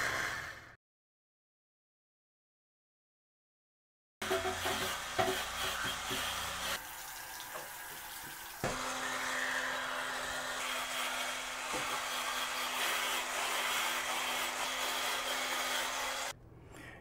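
An electric spin shower scrubber running at full power: a steady whirring buzz close up after a short silence, continuing with slight shifts in tone as the brush moves.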